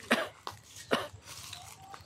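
Three sharp coughs from a person outdoors on a rural family farm, evenly spaced about half a second apart, close and fairly loud, followed by faint background sounds.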